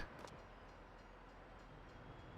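A train arrives in the video game Farming Simulator 22, heard as a quiet, steady low rumble with a few faint metallic clicks and no talking.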